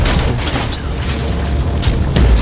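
Ancient machines being destroyed in Warhammer 40,000: Inquisitor – Martyr, a loud continuous rumble of booming explosions and clattering debris with a few sharper bursts, no talk.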